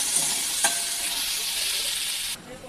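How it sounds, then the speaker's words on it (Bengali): Garlic, green chili and chopped onion frying in oil in a pan, a steady close sizzle with a brief scrape of stirring, easing off near the end. "এগুলো ভালো করে ভাজা ভাজা হবে"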